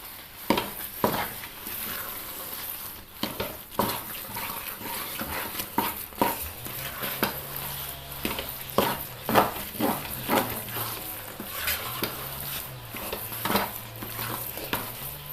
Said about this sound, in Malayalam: പൊടികളെല്ലാം നമ്മൾ ചേർത്തിട്ടുണ്ട്, നന്നായി ഇളക്കിയിട്ടുണ്ട്.